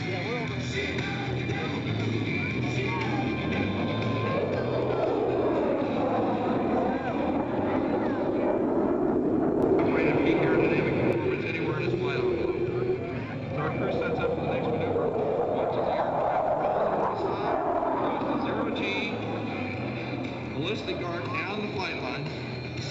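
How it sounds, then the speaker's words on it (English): A Grumman F-14 Tomcat jet fighter flies at an airshow, its roar rising and swelling over a long pass with a sweeping tone shift, while an announcer talks over it. "presenting the F-14 Tomcat and the sound of freedom."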